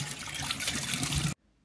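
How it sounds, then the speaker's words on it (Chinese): Strong, steady water gushes from a kitchen faucet freshly cleared of sediment and scale, running loud and close for over a second before cutting off abruptly into near silence. "现在这个水量就大多 了"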